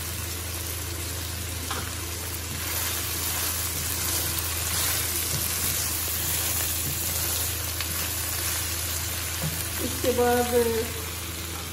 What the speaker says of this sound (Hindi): तो मैं ये इसमें डाल रही हूँ ये शिमला मिर्च। और ये 3 अदद हरी मिर्चें थी ये भी मैं डाल रही हूँ।